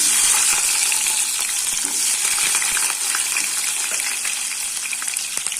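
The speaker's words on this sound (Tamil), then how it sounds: "நான் ஒரு பதினஞ்சு சின்ன வெங்காயம் இந்த மாதிரி பொருசாக கட் பண்ணி வச்சுருக்கேன் அதை போட்டுடலாம்" Small chopped shallots frying in hot oil with popped mustard seeds for a drumstick and brinjal kara kuzhambu, a loud, dense, continuous sizzle and crackle, close up and steady throughout.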